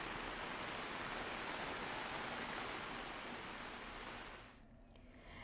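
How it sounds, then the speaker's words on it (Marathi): The flooded Indrayani river, swollen by heavy monsoon rain, surges over the steps of the ghat at Dehu in a constant broad roar of rushing water that eases slightly near the end. "इंद्रायणी नदी दुथडी भरून वाहू लागलेली आहे"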